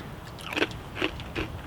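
Dried banana chips from a homemade MRE being crunched, three quiet separate bites at a slow, uneven pace, close up with no talking.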